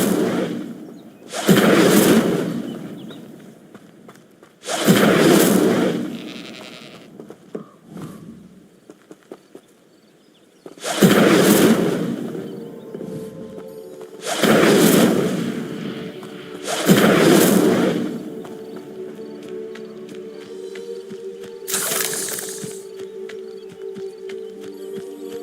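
Incendio fire spells cast in a Hogwarts video game burst out as about six sharp, whooshing blasts at irregular intervals, each fading quickly over a quiet ambient background.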